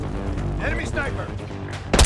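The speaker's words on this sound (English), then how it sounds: "Got mortar fire!" Mortar fire in the Call of Duty Black Ops 6 game, with loud booms and gunfire rumbling under shouted voices and ending in a sharp, close blast.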